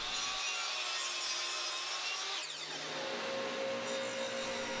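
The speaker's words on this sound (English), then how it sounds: "I could clean up the edges on the table saw and the ends on the miter saw" A table saw and a miter saw cut pieces of a wooden jig fence in a woodworking shop, a loud close whining blade rasping through the wood, with the pitch shifting partway through the cut.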